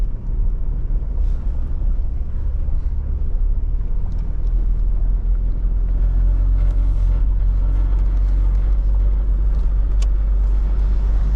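A 1992 Toyota Land Cruiser XV with a 4.2L turbo engine is driven, its loud, steady low engine rumble and road noise continuing without a break throughout.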